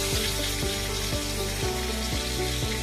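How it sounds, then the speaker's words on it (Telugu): Thinly sliced onions sizzle in melted butter in a pan for pav bhaji, a loud, continuous frying hiss close up with faint rhythmic knocks beneath it and no voices. "ఇప్పుడు సన్నగా కట్ చేసి పెట్టుకున్న ఆనియన్ వేస్తున్నాను"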